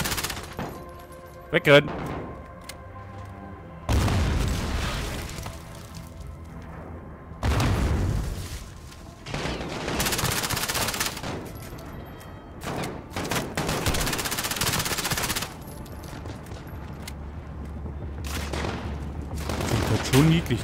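Bursts of MP7 submachine-gun fire and booming explosions in Call of Duty Modern Warfare, loud and repeated in several heavy blasts across the stretch, with a shouted voice and game chatter mixed in.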